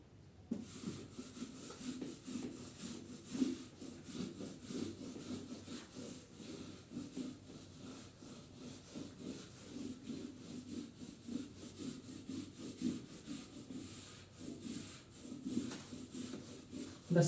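A whiteboard being wiped clean in a classroom, a steady scrubbing rub of cloth or eraser that keeps going with little pause, close and moderately loud throughout.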